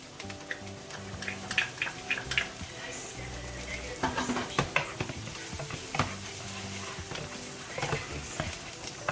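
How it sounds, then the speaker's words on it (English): Garlic goes into translucent sautéed onions in a pan while making baked ziti, a low continuous sizzle broken by frequent clicks and scrapes of a utensil stirring against the pan, close by with a faint background hum. "now that the onions are translucent, I'm going to go ahead and add my garlic"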